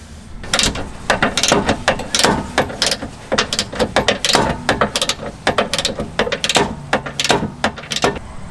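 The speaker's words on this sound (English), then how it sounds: "we'll go ahead and torque this nut to 40 foot-pounds" Ratchet wrench clicking rapidly and loudly while a suspension nut is torqued to 40 foot-pounds on a Ford Escape, in dense bursts of pawl clicks that run almost continuously and close up.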